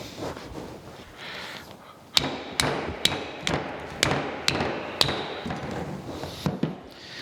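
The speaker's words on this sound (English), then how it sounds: "go get a hammer and see if I can just kind of bump that, see if I can get it to break loose" Sharp hammer blows bump a rusty Bison six-jaw lathe chuck to break it loose, about ten close, ringing metallic strikes at an irregular pace over a quiet workshop background.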